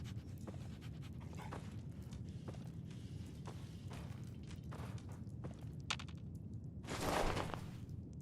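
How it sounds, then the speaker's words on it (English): Dog panting and whimpering in the video game Fallout 4, a steady breathy pant running throughout with short whines and soft footsteps, close and loud, rising to a noisy burst near the end. "All I can hear in my earphones, in my left ear, is puppy dog noises."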